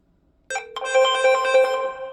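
An electronic phone ringtone from a call through an Alexa-enabled conference speaker starts abruptly and plays a bright, repeating melodic pattern, loud and close, with no talking.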